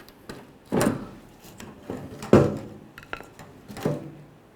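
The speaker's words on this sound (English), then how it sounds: "go ahead and pry the fuel pump up from the fuel tank" Prying a fuel pump up out of the fuel tank of a Chevy S10 pickup: three or four dull clunks and scraping knocks in quick succession, close and moderately loud, with no talking.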